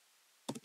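Three quick keystrokes tap on a computer keyboard after a near-silent pause, close and crisp, with no talk.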